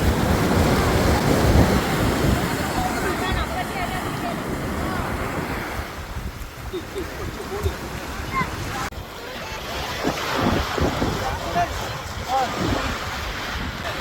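Surf washes steadily onto a beach with gusty wind rumbling across the microphone, and faint voices now and then.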